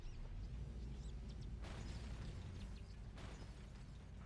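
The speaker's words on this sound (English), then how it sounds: "that's just a big explosion" A big explosion in a video game rumbles as a broad, steady low roar with two sudden noisy bursts partway through, moderately loud with no talk over it.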